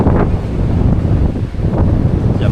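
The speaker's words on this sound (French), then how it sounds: "Il y a beaucoup de vent le long de la mer." Strong gusty wind along the ocean shore buffets the microphone in heavy low rumbles, with a faint wash of surf underneath and no voices.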